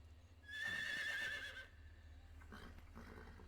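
A horse in the video game Metal Gear Solid Delta: Snake Eater lets out a loud, quavering whinny that fades after about a second, followed by faint hoofbeats over a low background hum.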